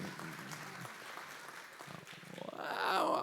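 Applause from a church congregation, a steady clatter of many hands clapping that swells louder toward the end.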